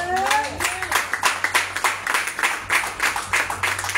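A church congregation claps and cheers in acclaim of Jesus. Many hands clap in quick, uneven bursts, and a few raised voices cheer at the very start.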